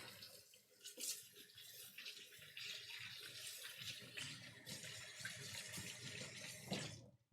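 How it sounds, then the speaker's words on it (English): Hands rinsed under a running kitchen tap, a steady faint stream of water splashing for several seconds before it shuts off. "give my hands a quick rinse, and wash them."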